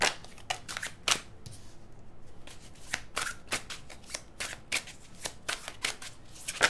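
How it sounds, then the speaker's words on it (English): A deck of tarot cards is shuffled close up, with repeated quick riffling bursts and soft slaps in an irregular rhythm, alone without talk. "I'm going to get all the cards out"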